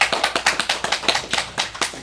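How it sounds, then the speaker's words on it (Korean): Brief burst of applause in a church Sunday service, a scattering of hand claps in quick irregular rhythm, close by. "박수로 환영해 주시기 바랍니다"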